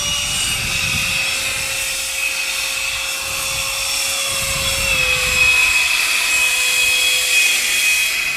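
An H-King 70mm EDF Parajet RC jet in flight on a windy day, its ducted fan giving a steady high whine that holds throughout, rising a little in pitch near the end and gradually dopplering down as it passes.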